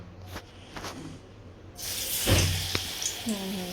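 Thin batter made without soda hits very hot oil: after a quiet opening with faint sounds, a loud sizzling hiss surges in and keeps crackling close by, with a voice speaking softly.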